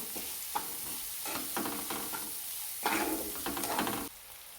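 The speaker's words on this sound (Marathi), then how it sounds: "आपण दोन कांदे कट करून घेतलेले टाकून घेतलेले छान परतून घेणार आहोत" Two chopped onions sautéing in a pan for paneer ghotalo, a close, steady sizzle broken by repeated scraping stirs in uneven bursts, with no talk.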